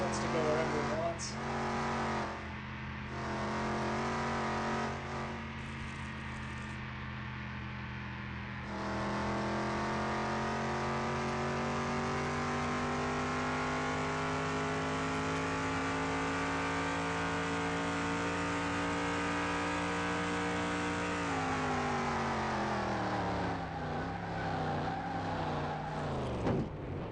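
A Ford F-100 engine screams at full throttle in Car Mechanic Simulator 2021, revving high and holding a long strained drone, with gear shifts dropping the pitch; the engine stays loud and continuous throughout.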